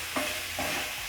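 Carrots being stirred into a simmering okra stew, a soft continuous sizzle with a couple of brief spoon scrapes, short and close.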